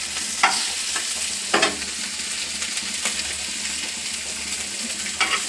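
Fish coated in gram flour (besan) batter fries in hot oil, a continuous close sizzle broken by a few sharp clinks and scrapes of a utensil stirring in the pan.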